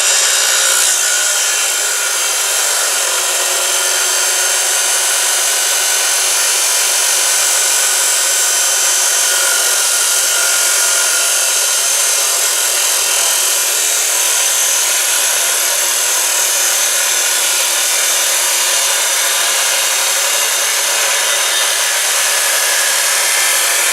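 A power tool saws through square metal tubing for an ice eater build, a loud, close, continuous grinding hiss that runs unbroken for the whole stretch.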